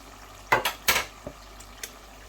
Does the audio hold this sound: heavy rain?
no